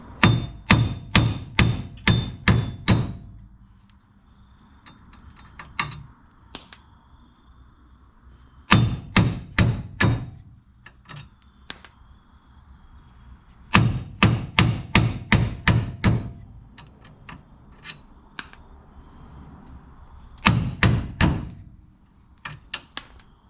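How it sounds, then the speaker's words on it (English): A big hammer knocks old wheel studs out of a Nissan hub. Loud metallic blows come in quick bursts of five or six strikes, with pauses and faint clinks between the bursts. "you get yourself a nice big old hammer, this will knock right out very quickly and very easily"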